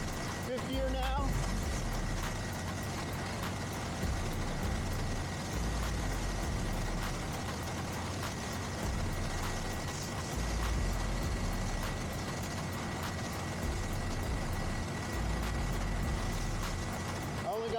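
A 2025 Honda Grom SP motorcycle cruises in fifth gear, giving a steady low engine drone mixed with rushing wind noise throughout, while a rider talks over it.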